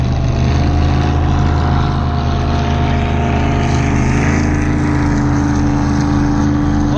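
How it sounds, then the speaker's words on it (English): Fast, noisy motorboat running near Port Washington, a loud continuous engine roar with water noise holding steady throughout, close by and with no talking. "Here's a fast, noisy boat."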